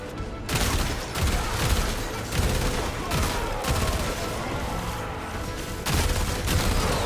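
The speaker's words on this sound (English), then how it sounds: "All turrets firing, and not a moment too soon." Turret gunfire in Warframe rattles in loud, rapid bursts of repeated shots with short pauses between volleys, dense and close throughout.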